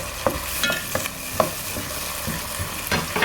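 Gobi Manchurian sauces of red chilli sauce and tomato ketchup cooking in a pan over a low flame, a soft sizzle with repeated stirring scrapes, no talk.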